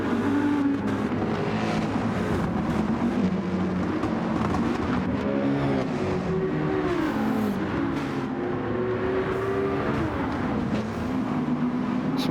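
Race cars in a Gran Turismo 7 BTCC-replica league race, with loud continuous engine roar and revving that rises and falls as gears shift and cars close up on one another.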